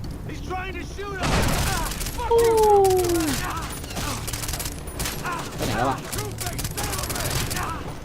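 Bursts of rapid video game gunfire and booms, mixed with game music and effects, while a person talks excitedly over the action.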